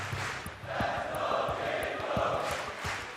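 Stadium crowd of Mongolian esports fans cheering and chanting at a Counter-Strike world final between G2 and Spirit, a sustained roar with rhythmic rising shouts and claps throughout.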